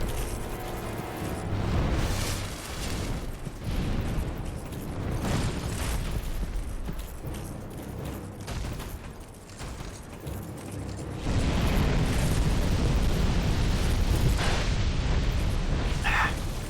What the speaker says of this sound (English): Ah, yikes. That is a lot of fire.